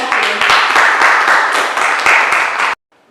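A classroom group claps for group C in a loud, dense burst of applause lasting a few seconds before cutting off abruptly.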